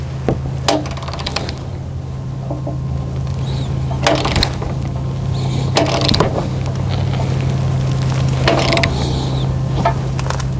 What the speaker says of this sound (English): We're torquing up the brackets that go onto the trailer tongue.